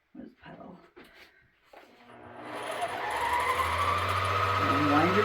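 A sewing machine motor winds the bobbin. After a few brief spoken words, the motor spins up into a steady whirring whine that rises and holds, close and increasingly loud.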